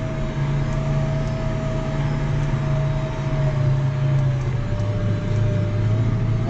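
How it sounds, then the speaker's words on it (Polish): A John Deere 6105MC tractor ploughs peat soil with a Kverneland 150S plough, its engine droning steadily and loud throughout, with a constant tonal hum and low rumble and no speech. "ma co robić ciągnik."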